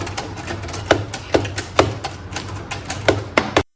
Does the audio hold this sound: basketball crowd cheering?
no